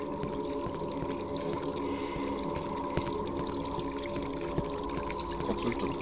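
Continuous pouring water in the Cry of Fear video game, a steady loud flow with hollow, echoing tones and occasional faint clicks throughout.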